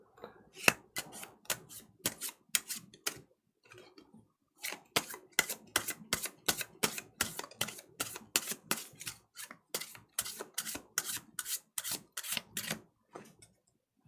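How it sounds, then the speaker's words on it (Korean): Playing cards are shuffled close up in a card trick, crisp rapid riffling bursts that come in quick rhythmic runs, pausing briefly before another long series of sharp flicks. "덮어서 또 섞도록 할게요."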